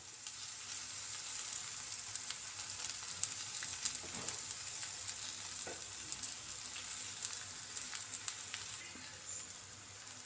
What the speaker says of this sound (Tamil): கிழங்கு தேங்காய் எல்லாம் கிளறி விட்டுக்கலாம்